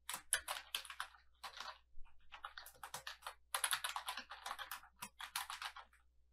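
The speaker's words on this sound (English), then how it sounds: "Under Vendor Display Name is where I'm going to type." Someone types on a computer keyboard while entering a vendor name in QuickBooks Online, rapid clicky keystrokes in irregular bursts with short pauses, close and crisp against a quiet room hum.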